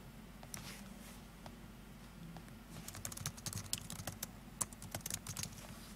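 A name being typed on a computer keyboard, a faint, quiet run of key clicks that starts sparse and quickens into a busier patter, with no talk.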